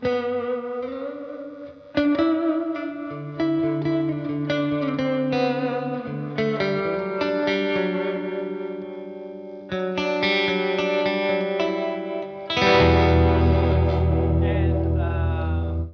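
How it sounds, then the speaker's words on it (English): Twangy 1962 Fender Jazzmaster electric guitar playing a bright, picked surf melody with a dry, slightly reverb-effected tone, building to louder strummed chords near the end. "So firstly, the sort of the surf sound."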